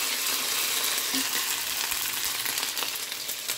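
Ginger garlic paste hitting hot oil in a pan, a steady close bright sizzle and crackle with faint stirring, no voices.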